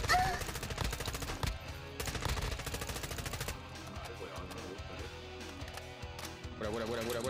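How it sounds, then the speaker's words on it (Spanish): Rapid gunfire in Call of Duty Warzone 2.0 DMZ, dense bursts of machine-gun shots in clusters with pauses between, at moderate distance, with people talking over parts of it. "¿Quién está disparando?"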